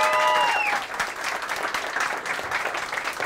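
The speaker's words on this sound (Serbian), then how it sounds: "ali jedan aplauz za njega" An audience applauds a songwriter who could not attend a song launch, steady clapping filling the room with a few short whistles near the start.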